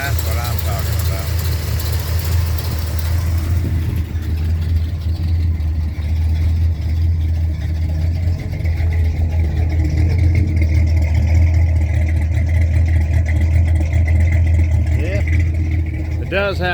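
A Dodge 4x4 truck with a swapped 360 V8, headers, 2.5-inch exhaust and two-chamber Flowmaster mufflers idles with a steady, deep, loud rumble throughout, with people talking over it close by.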